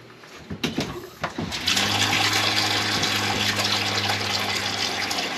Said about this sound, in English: I'm going to turn on a cold water tap down here.